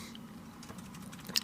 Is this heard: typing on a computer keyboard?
yes